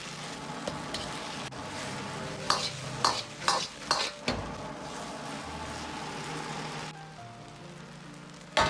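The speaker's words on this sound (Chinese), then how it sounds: "然后倒入炒好的鸡蛋， 快速的翻炒均匀，炒成酱汁。" Cooked eggs stir-fried in a wok of thick sweet and sour sauce, a steady close sizzle broken by several quick spatula scrapes and clanks, with no talking.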